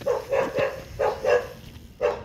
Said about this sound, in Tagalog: May tumatalo pa na aso.